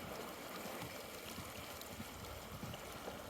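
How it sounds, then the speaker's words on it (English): A small mountain waterfall stream tumbles beside a trail in the Sierra Nevada, giving a steady, even wash of rushing water that stays fairly soft and continuous throughout, with no voices. "It's a beautiful little waterfall going down here."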